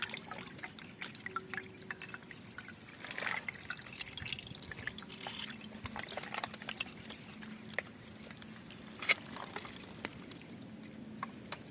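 Water drips and trickles off washed chicken pieces set in a plate, a faint, irregular patter of small drops and dribbles that comes close and quiet.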